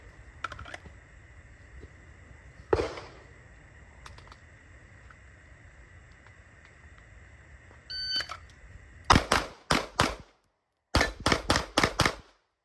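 Live-fire pistol shots aimed at steel targets during a shooting skills class, starting with a single crack and then a quick string of loud, sharp reports in two bursts with a brief gap between them.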